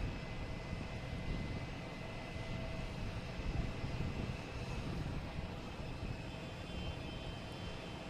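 An American Airlines Boeing 777 arriving from London Heathrow lands at Boston Logan, a steady low engine rumble holding at a moderate, somewhat distant level throughout with faint tonal whine above.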